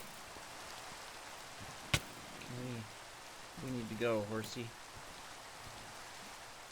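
Steady soft rain falling in Minecraft, a constant faint hiss with a sharp click and someone speaking briefly over it.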